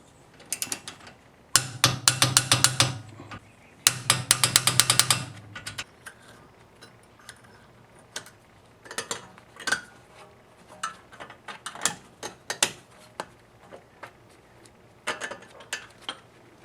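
A ratchet tightens brake caliper bolts on a BMW 3 Series (E30, E36, E46) during a brake job, giving two dense bursts of rapid clicking followed by scattered, slower clicks and clanks of the tool, close up with no talking.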